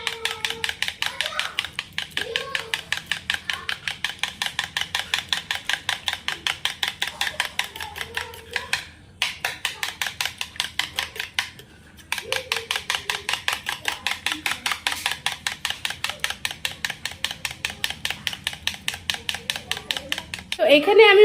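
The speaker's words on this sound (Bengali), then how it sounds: "তো এরকম বড় চামচে 5 চামচ আমি টক দই নিয়ে নিচ্ছি। তো এটাকে আমি ভালো করে ফেটে নেব।" Sour yogurt whipped hard with a large spoon in a bowl, a fast, steady run of sharp clicking strokes that continues for about twenty seconds with two brief pauses, close and clear.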